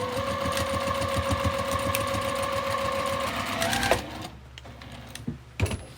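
A sewing machine stitches in the ditch on a quilted scrappy tote bag, running in a fast steady rhythmic whir and then stopping near the end, leaving a few faint clicks and handling noises, close up with no talking.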